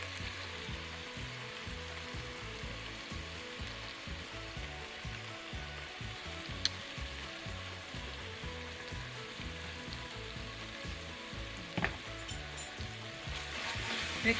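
About a tablespoon of tomato paste fries and sizzles in a hot pan with a steady crackling hiss for the whole stretch, broken by occasional stirring scrapes and a couple of sharp clinks. No voices are heard.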